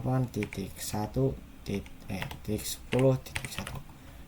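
Computer keyboard typing while entering network settings, a few soft scattered key taps close by, largely under steady talking.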